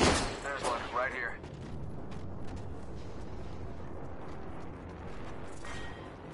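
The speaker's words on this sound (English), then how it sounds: "Shots fired" Gunfire in the Apex Legends battle royale, a rapid stream of shots under a steady roar of game noise, with a brief voice at the start.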